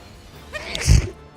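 A single sharp sneeze bursts out near the mic during a Final Fantasy XIV livestream, loud and brief against a faint background hum.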